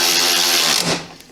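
Ryobi One+ cordless power tool spinning out 10mm bolts from the radiator core support of a Jeep: a loud, close, steady motor whir that drops away after about a second.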